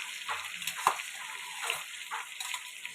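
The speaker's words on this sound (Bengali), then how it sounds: "সিদ্ধ করা যে সবজিগুলোকে আমি এই তেলের মধ্যে দিয়ে দিলাম।" Boiled vegetables tossed into hot oil for a vegetable paratha filling, giving a soft, steady sizzle with faint stirring scrapes and a few brief spits.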